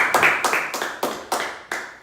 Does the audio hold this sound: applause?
yes